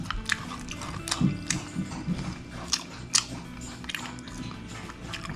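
Close, wet chewing and biting on fried chicken, with irregular crunchy bites and smacking mouth noises over a low room hum.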